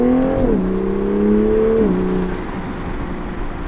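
A Toyota A90 Supra in sport mode accelerates under load from inside the car, its engine note rising strongly through two gear changes before easing off into a quieter cruise.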